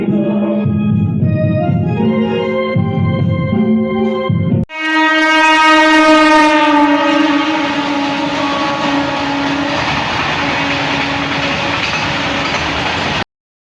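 A train at Purulia railway station sounds its horn in a loud, sustained blast, breaks off, then sounds a second long, brighter blast that holds before cutting out abruptly. No voices are present.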